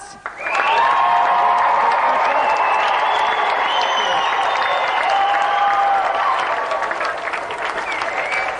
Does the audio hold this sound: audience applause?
yes